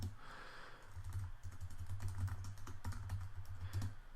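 Steady, close-up clicking of keys on a computer keyboard as code is typed into an app project, a continuous run of quick taps with no one speaking.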